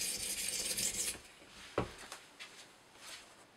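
Knife edge of a Spyderco Paramilitary 2 in CTS-20CP steel rubbed along an Edge Pro sharpening stone, a close raspy stroke at first followed by a few fainter scrapes and taps.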